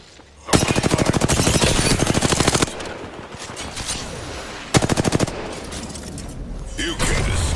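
Sustained bursts of rapid automatic gunfire ring out loud and close in a video game, two long volleys separated by a quieter stretch of muffled shots and noise.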